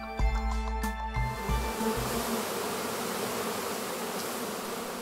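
Honeybees buzzing at a bee farm raising royal jelly, a dense, steady swarm hum that stays close and even throughout, with a few clicks and knocks near the start.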